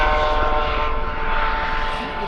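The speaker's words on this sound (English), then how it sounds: "There's another helicopter." A helicopter flying overhead sounds as a steady, droning engine and rotor hum, fairly loud and continuous, fading slightly toward the end.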